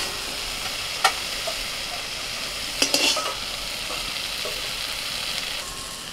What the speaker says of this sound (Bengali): এবার নাড়াচাড়া করে শুধু একটু শাকটা ভেজে নেব।